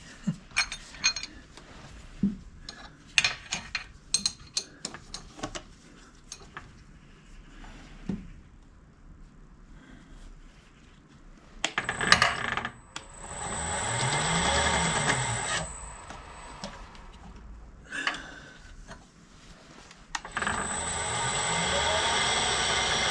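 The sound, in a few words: face mill arbour spinning on a machine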